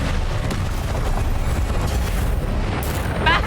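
A deep, rumbling Confringo spell explosion from Hogwarts Legacy, a sustained loud boom filling the whole stretch and ending in a brief bright crackle.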